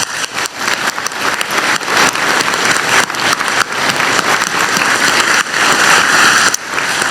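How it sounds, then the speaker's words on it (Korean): Sustained applause from a crowd at a Korean government event marking the Jeonnam–Gwangju integration, a dense, steady wash of many hands clapping for about seven seconds with no talk over it. "우리 두 분께 박수 한번 드리고 싶습니다"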